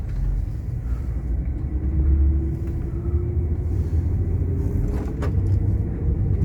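Inside a 1999 Mercedes S500 while it drives, a steady low engine and road rumble fills the cabin, smooth and continuous with no speech.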